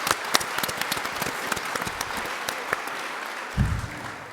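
Debate audience applauding after a speaker, a steady patter of many hands with sharp individual claps near the front, trailing off as a brief low thump sounds near the end.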